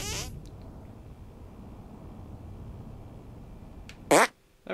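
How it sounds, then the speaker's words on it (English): A short, sharp cartoon fart sound effect from the South Park: The Stick of Truth video game bursts out near the end, loud and alone after a quiet stretch of low background hum. "Make your fart detonate behind me."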